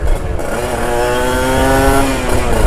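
A two-stroke Kawasaki Ninja RR 150 motorcycle engine revs hard up close, its loud, buzzy note climbing steadily in pitch and then dropping back, with no voices over it.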